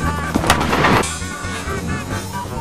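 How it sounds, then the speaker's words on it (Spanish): A sharp firecracker bang bursts out up close, right by someone's ear, followed by another loud crack and a noisy, crackling tail over background clatter. "cuando escuche un petardo justo en su oreja"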